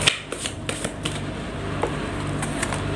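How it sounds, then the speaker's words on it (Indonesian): Tarot cards are drawn one by one from a deck in quick, crisp flicks and slides, a series of short papery snaps close to the microphone with no talking. "Di sini saya akan mengambil 6 kartu."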